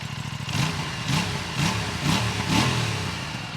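The underbelly exhaust of a 2024 Aprilia RS 457 is blipped to medium revs about five times in an even rhythm, each rise and fall loud and close over a continuous running engine.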